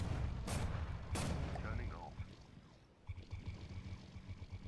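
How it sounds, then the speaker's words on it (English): In the naval building game From The Depths, a primary cannon self-destructs, giving two sharp, loud explosive cracks followed by rumbling and a cannon-like boom, amid a low game engine drone. "I think my primary cannon decided to try and attack the enemy when its barrel was being built, and so it self-destructed on me."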